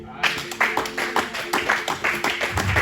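A church congregation clapping in steady rhythmic beats to acclaim the Lord, about two claps per second, fairly close and loud for a few seconds.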